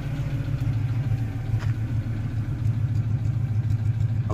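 A Suzuki Carry minibus engine runs loudly and steadily with a deep low rumble, a continuous idle-to-rev drone with light mechanical clatter and no talk.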